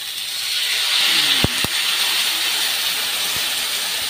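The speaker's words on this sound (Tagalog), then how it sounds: "pumuputok-putok ng kanyang taba-taba" Pork fat on a barbecue grill gives a steady, bright sizzling hiss broken by a few sharp pops, with two close together and one more later.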